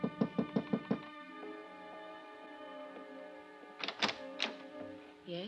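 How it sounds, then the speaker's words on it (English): Five quick, close knocks sound on a hotel room door, followed by a sustained tonal, musical passage and a few more faint taps near the end. "I gave her 5 minutes, then I knocked on her door."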